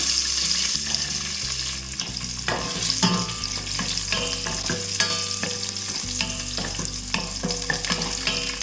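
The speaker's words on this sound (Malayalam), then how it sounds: "പിന്നെ ഞാൻ ഈ എടുത്ത് വെച്ചിരിക്കുന്ന കാഷ്നട്ടും കിസ്മിസും കൂടി ഇതിലേക്ക് ഇട്ടിട്ട് ഒന്ന് മൂപ്പിച്ചെടുക്കുകയാണ്." Cashews and raisins fry in hot oil in a pan, a loud, steady crackling sizzle with frequent stirring scrapes and clatter, and faint music underneath throughout.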